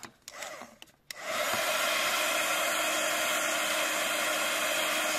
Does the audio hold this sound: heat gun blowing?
yes